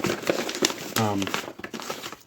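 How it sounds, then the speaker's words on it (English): Plastic flour bag crinkling and crackling during challah bread making in a home kitchen, with short bursts of rustling and a voice speaking over it. "I might actually end up editing this part out because of the crinkling of the bag."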